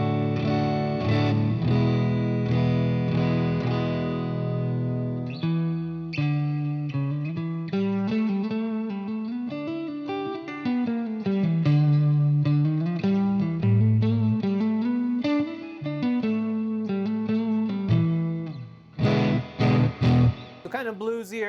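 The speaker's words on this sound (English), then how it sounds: "now just the neck pickup on a Strat, also very recognizable" Fender Stratocaster electric guitar played on the neck pickup, clean and warm, with sustained chords and melodic notes ringing out continuously, ending in a few sharp strummed hits.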